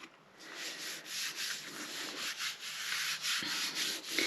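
Something rubbed back and forth across heavy 140 pound art paper, a close, continuous dry scraping in repeated strokes with slight pauses between passes.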